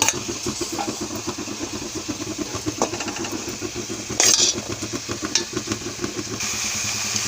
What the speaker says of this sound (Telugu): ఇప్పుడు మనం చల్లార్చి పెట్టుకున్న రైసు ఈ పుదీనాలో వేసి కలుపుకోవాలి.